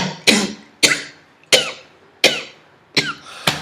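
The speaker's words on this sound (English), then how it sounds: "I've got this cough, I know what it is." A man coughs six times in an even, close series of harsh, loud barks, each one fading quickly before the next, with no talking between them.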